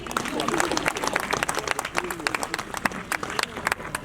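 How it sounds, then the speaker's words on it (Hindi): An audience at a Hindi poetry gathering (kavi sammelan) in Khariar Road, Odisha applauds, a dense run of claps with crowd murmur underneath. "तालियां बजाइए।"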